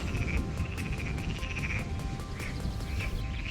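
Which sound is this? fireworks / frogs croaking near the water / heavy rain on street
frogs croaking near the water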